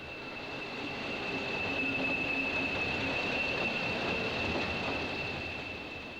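Train hauled by locomotive 4185 leaving York for Scotland, a steady rumble swelling and fading as it passes at a distance, with a thin sustained high whine from the wheels.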